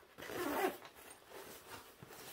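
Zipper closing on a foldable EDC shoulder bag: a quick, close rasping zip pull, followed by softer fabric rustling and handling noises.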